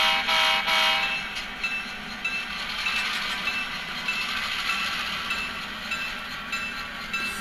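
A model locomotive with a Tsunami2 sound decoder backs out of an engine lead, its engine sound giving a steady, moderately loud rumble with a brief horn-like tone near the start.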